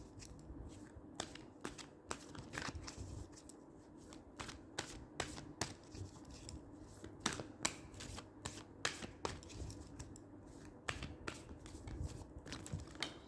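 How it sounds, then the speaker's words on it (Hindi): Playing cards slip and tumble during a card reading, giving a steady patter of light, crisp clicks and flicks over a dull background rustle. The sound is close, with no talking. "व्यूअर्स कार्ड्स गिर गए मेरे"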